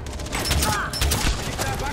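Rapid gunfire from the Far Cry 4 video game rattles in dense bursts through the whole stretch, loud and close, with a panicked voice exclaiming in the mix.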